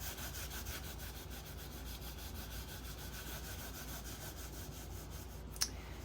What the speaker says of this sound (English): we're going to take a paper towel. We're going to wipe the excess ink off of the embossed areas